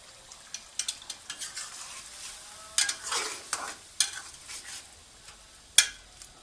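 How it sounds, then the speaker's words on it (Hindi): Chicken karahi with garam masala frying over a high flame, a soft sizzle beneath repeated scraping strokes of a spoon in the pan, with several sharper clanks of metal against the pot. "अब हम इसे अच्छी तरह से हाई फ्लेम पे भून लेंगे।"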